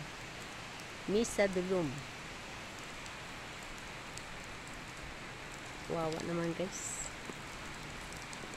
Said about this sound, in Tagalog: Umuulan pa. Tingnan nyo. Yan. Umuulan.